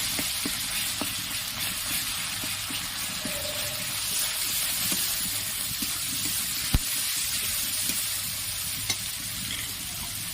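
Fish curry masala with salt sautéing in a pan for jhinge alu rui macher jhol, a steady close sizzle with occasional scrapes and knocks of the stirring spoon.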